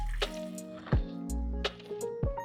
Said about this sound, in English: pour my water and try to get it to go all the way down